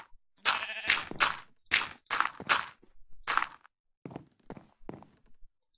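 Several bleats from a sheep in the video game Minecraft, a run of short, loud, close cries with brief gaps between them and no talk.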